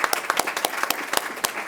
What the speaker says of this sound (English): We can clap on that, can we?